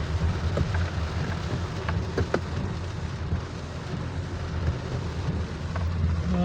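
Steady rain falls on a wet road, making a constant dense hiss with scattered louder drops and a low rumble underneath, and no voices.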